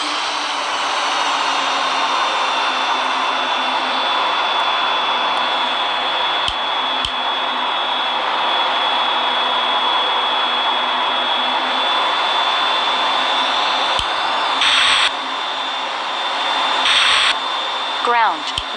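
Airbus A340-300 jet engines during landing rollout in a flight simulator, a loud, steady roaring whine sustained throughout, with brief rattling bursts near the end and a voice occasionally heard.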